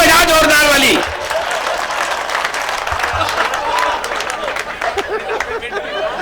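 An audience at a Hindi comedy show breaks into a loud burst of clapping that lasts about a second, then gives way to someone talking over soft crowd murmur.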